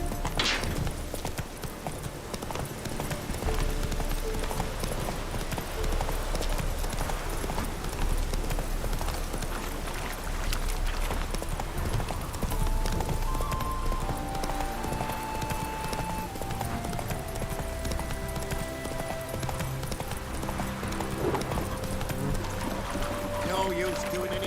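A horse's hooves clip-clop steadily in the video game Witcher 3, set against a dense, continuous bed of game ambience and music throughout.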